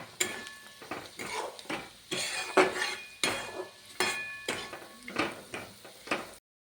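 A spoon mixes chapati snack with salt in a bowl, making rhythmic scraping and clinking strokes that repeat about once a second, close and moderately loud, ending in silence.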